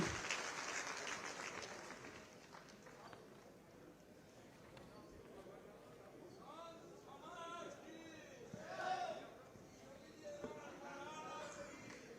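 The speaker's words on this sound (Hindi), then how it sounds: "मैं अनुरोध करूंगी आप सब हमारे इन परम पूज्य संत जनों का सम्मान अपनी तालियों के माध्यम से करें" Crowd applause at a large outdoor rally in Mathura, honoring revered saints on stage. Broad clapping noise comes up strongest at the start, then thins into a steady background under a loudspeaker voice talking.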